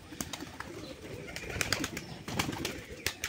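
Pigeons on a pigeon farm give soft, repeated cooing calls over a busy background of shuffling and fluttering, fairly close, with no talk.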